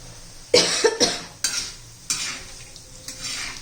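Fenugreek seeds and dal fry in oil for a curry leaf chutney, with a few sharp metal spoon scrapes against the pan over a soft sizzle, close and clear, with no talking.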